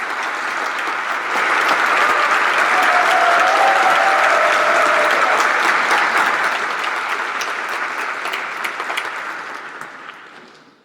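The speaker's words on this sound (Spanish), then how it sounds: "Le damos un fuerte aplauso." Audience applause at the opening of a public ethics and probity congress, a sustained burst of clapping from a large crowd that swells, holds steady for several seconds, then gradually thins and fades out.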